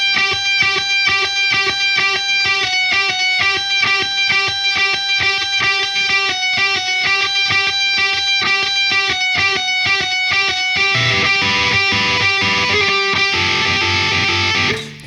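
Distorted electric guitar plays a harmony line, a steady run of sustained picked notes, loud and close, with a denser chugging texture in the last few seconds and no talking.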